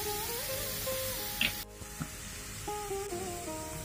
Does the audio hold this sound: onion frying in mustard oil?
yes